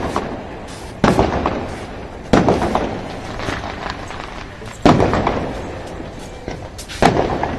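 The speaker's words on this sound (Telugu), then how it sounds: "బాంబులు పేలుతున్నాయి." Festival firecrackers burst outside, several loud sharp bangs at irregular intervals, each followed by a crackling, echoing tail, fairly near and dominating the scene.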